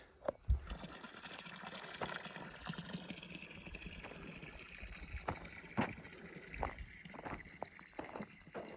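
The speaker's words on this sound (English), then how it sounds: "the pond is filling up" Water flows and gushes into a newly dug pond, a faint, continuous trickle with scattered splashes and knocks over about nine seconds, without voices.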